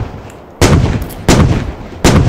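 Three loud, close gunshots from a Warrior vehicle's cannon in the video game SQUAD, spaced roughly evenly apart with broadband blasts and brief decays between them, no talk.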